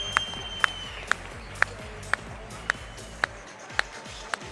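Audience applause at a bodybuilding competition finale, with steady crowd clapping and regular sharp claps or taps ringing through, over lively talk and music from the hall.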